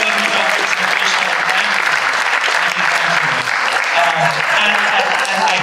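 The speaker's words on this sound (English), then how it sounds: "if we can just have a round of applause for all of our panelists" Steady applause from an audience thanking panelists fills the whole stretch, dense and even clapping with a faint murmur of voices beneath.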